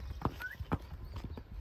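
Hooves of a gelded purebred Criollo horse clip-clop in a few distinct, irregular strikes, close and fairly soft, with no talk over them.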